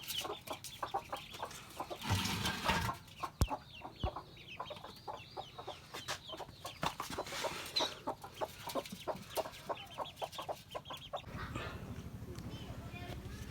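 Hens cluck repeatedly at close range in a mix of short and drawn-out calls, with a person talking over the birds at times.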